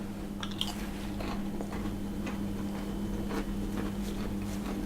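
Bites and crunches into a crisp, cheesy cheddar cracker with a hole in the middle, a few close crunchy chews over a steady low hum, with no talking.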